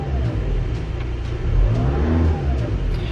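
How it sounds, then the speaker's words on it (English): A car engine revs up, its low droning pitch rising and falling in a couple of swells, close and fairly loud with no voices over it. "We'll rev it up again."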